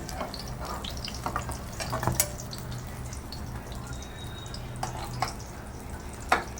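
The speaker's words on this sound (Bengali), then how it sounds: "বেগুনগুলো আমি এরকম হালকা লাল লাল করে ভেজে নিয়েছি" Soft, continuous sizzle of eggplant frying in oil, with occasional light scrapes and taps from a utensil, close and fairly quiet.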